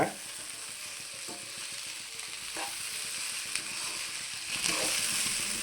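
Pieces of okra and onion fry in a pan, giving a steady, even sizzling hiss with occasional soft stirring scrapes and a few brighter crackles near the end.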